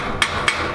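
Slag is chipped off a freshly made weld with a hammer. Three quick, sharp metallic taps, evenly spaced, stand out over a steady background hum.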